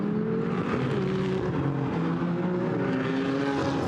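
GT4 race cars, an Aston Martin and a McLaren, lapping Paul Ricard in the GT4 European Series, a continuous loud engine drone with shifting revving tones as they run through a corner together.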